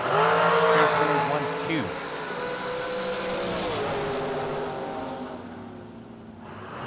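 Drag racing cars launching down the strip on a drag racing broadcast, loud revving engines sweeping in pitch as they pass and fade, with an announcer talking over the roar.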